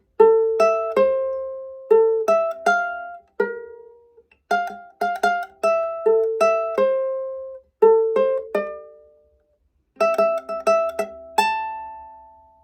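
Plucked ukulele notes play the melody of a song slowly in short phrases, each note ringing briefly, with pauses between groups of notes.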